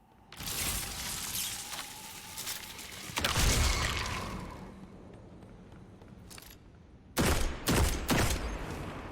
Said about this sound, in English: A stasis scout rifle.